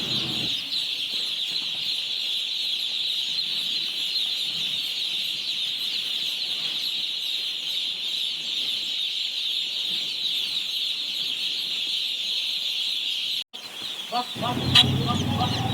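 Day-old chicks on a poultry farm keep up a dense, continuous chorus of high peeping. A short clatter and some shuffling come near the end.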